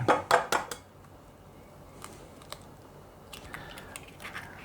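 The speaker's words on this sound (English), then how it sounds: "First, I'm going to put 3 eggs in it." Eggs are cracked into cornbread batter: three sharp, close shell taps in quick succession at the start, then faint scattered clinks of a bowl and utensil.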